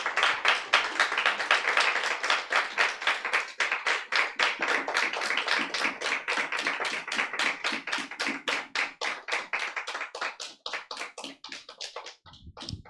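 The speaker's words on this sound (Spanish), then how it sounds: "Dele un fuerte aplauso al Señor." A church congregation applauds in a fast, steady rhythm of loud clapping that runs unbroken for several seconds before thinning out and stopping near the end.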